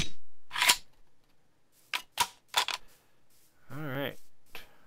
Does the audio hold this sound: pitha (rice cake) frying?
no